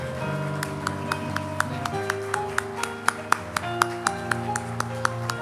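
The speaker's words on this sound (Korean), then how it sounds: "뜨겁게 박수로 축하해 주십시오." Steady rhythmic clapping from a church congregation celebrating a child's baptism at a Sunday service, sharp regular claps over sustained instrumental music.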